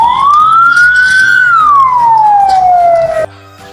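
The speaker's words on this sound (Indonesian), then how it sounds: "truk pemadam kebakaran" A fire truck siren wails loud and close in one long rising-then-falling sweep that cuts off abruptly, leaving a low background hum.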